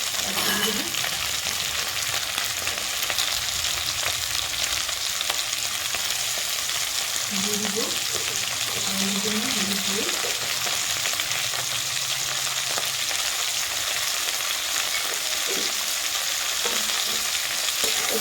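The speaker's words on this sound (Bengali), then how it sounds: "ভাজা ভাজা করে দেবো" Squash and tomato fry in hot oil in a pan, giving a steady, close sizzle throughout with occasional scraping stirs and clatters.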